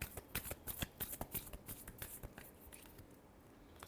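Tarot cards are shuffled in quick, crisp riffling flicks that come in a fast irregular rhythm, close and fairly quiet, then slow and thin out toward the end.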